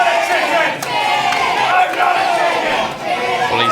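Crowd roaring at a live wrestling show in Hullbridge: a dense, continuous wall of shouting, cheering and chatter that stays loud throughout, with brief dips and swells.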